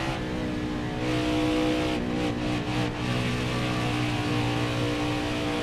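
Race truck engine in NASCAR Heat 4 at Las Vegas, revving hard under steady throttle with dense harmonic tones, a brief lift and surge around mid-lap, loud and continuous with no voices.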